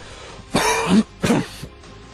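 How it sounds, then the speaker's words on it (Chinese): Loud coughing close by, two harsh bursts in quick succession with a throaty, rasping edge, then silence. "突然大声咳嗽起来"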